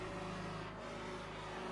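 A car engine runs steadily beside an abandoned factory, giving a constant droning hum with a clear tonal pitch and no revving.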